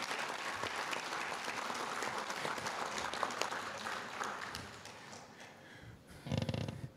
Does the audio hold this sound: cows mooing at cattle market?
no